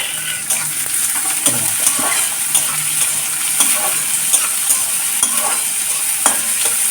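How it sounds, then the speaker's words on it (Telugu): Thinly sliced onions sautéing in a pan for aloo bonda: a steady, loud sizzle with scattered crackles and occasional stirring scrapes, with no voices. "ఇదిగో ఇప్పుడు ఉల్లిపాయలు మగ్గనిద్దాం. ఉల్లిపాయలు సన్నగా మగ్గుతూ ఉంటాయి."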